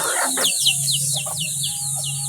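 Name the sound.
pet chickens clucking while grabbing pineapple peels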